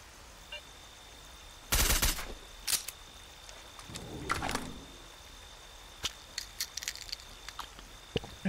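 Enemy gunfire in Stalker: Call of Pripyat: a dense burst of automatic shots near the two-second mark, a few more bursts around three and four seconds, then scattered single cracks, all over a quiet ambient background.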